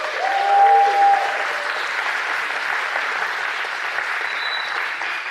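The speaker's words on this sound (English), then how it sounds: "Can we give Aris a huge round of applause, please?" A conference audience gives a huge round of applause, with steady, dense clapping from a large crowd that holds at an even level. A brief whistle or electronic tone sits near the start.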